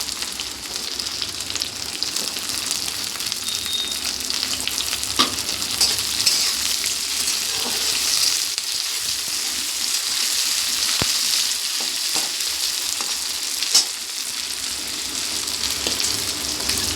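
Capsicum and peas frying with broccoli in a pan, a steady close sizzle running throughout with occasional sharp clicks of stirring and crackles.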